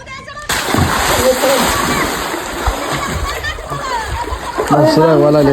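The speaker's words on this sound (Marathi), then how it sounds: "मी उलटी पालटी उडी घातली आणि चालू केलं आपलं शिस्तीत पवायला" A splash into water is followed by continuous sloshing and splashing of swimming, loud and close, with voices calling out over it.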